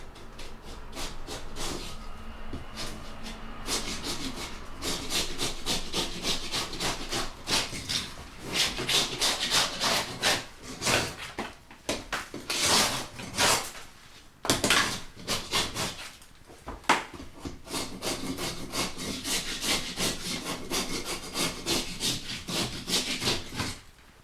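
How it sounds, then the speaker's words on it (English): A scraper works stubborn wallpaper off a wall in a long run of close, rasping strokes, some choppy and some steady, with a short pause partway through. "I'm just going to start a patch on this side with the scraper."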